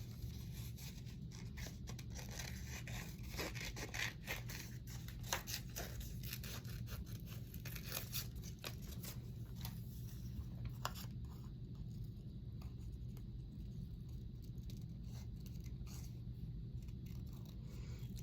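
Scissors snip through paper to cut out a butterfly shape, a quiet run of small clipped cuts over a steady low hum, with no one talking.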